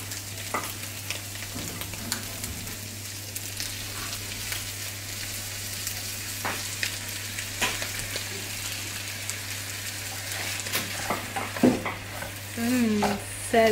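Potatoes with cream are stirred and sautéed in a pan: a steady, close scraping and soft bubbling sizzle with a low hum running throughout, the spoon strokes growing a bit louder near the end.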